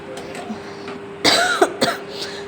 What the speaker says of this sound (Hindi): खांसी सी हो रही है आज मेरे को